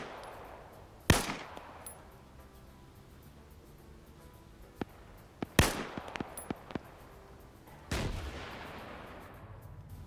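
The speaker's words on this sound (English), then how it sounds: "RPG goes a little short, but it was close to target." RPG rocket launcher in a multiplayer shooter game fires with a sharp blast, followed by booming explosions and scattered gunshots, several loud reports spread across the clip with rumbling decay.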